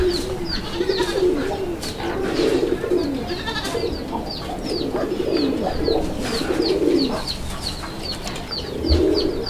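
A pair of large Indian Bombay pigeons in breeding mood coo steadily in low, throaty rolling phrases, with sharp chirps from other birds repeating throughout and no talk.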